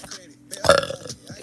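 A girl lets out a single throaty burp lasting under a second, loud and close, with a brief soft vocal sound just before it.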